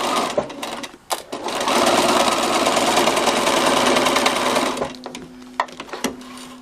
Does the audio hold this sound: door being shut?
no